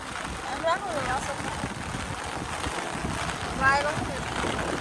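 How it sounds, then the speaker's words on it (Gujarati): A steady rush of strong wind buffets the microphone, with faint voices briefly rising above it. "પવન વધારે છે"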